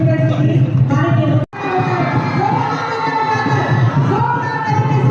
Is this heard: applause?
yes